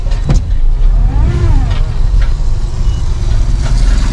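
A car being driven produces a loud, steady engine and road rumble that continues throughout, with a few faint higher tones drifting over it and no clear talk.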